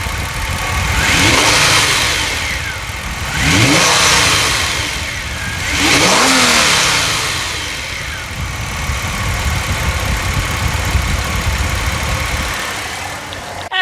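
A Hyundai V6 car engine revs up hard three times in succession, each surge rising and falling, then settles into a steady, loud idle.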